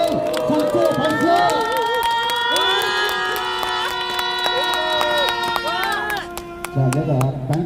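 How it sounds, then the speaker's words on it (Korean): A crowd at a patriotic group rally roars with cheers and shouts for Pastor Kim Young-shin, loud and sustained, with long horn-like tones held over the noise before it breaks into scattered voices near the end. "자, 환호. 와, 큰소리 박수."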